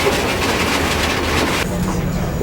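A train crosses through summer forest in British Columbia, Canada, a loud, close, continuous rumble with rhythmic clickety-clack of wheels on rails that drops off sharply near the end.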